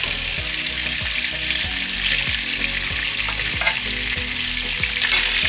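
Olive oil with flavorings sizzling steadily in a heating frying pan, a close, even crackle and hiss with no talking.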